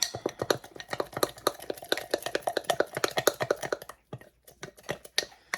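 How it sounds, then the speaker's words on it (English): A spoon briskly stirs a thick sourdough starter of flour and cultured yogurt in a bowl. It makes a rapid run of close, sticky clicks and taps, then pauses briefly and resumes. "And then you just stir this up."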